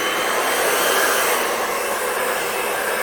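A hair dryer blows steadily over a Dutch pour acrylic painting, a loud, continuous broadband whoosh that holds level for the whole stretch with no talk.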